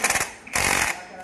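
Socket wrench tool removing bolts from a car front axle: two short loud bursts of rapid mechanical rattling, close, separated by a brief pause.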